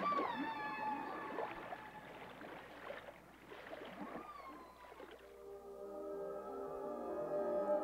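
Humpback whale calls from the Gulf Stream, a series of long tonal moans and rising wails, some with layered harmonics, sounding close and clear over a low watery background.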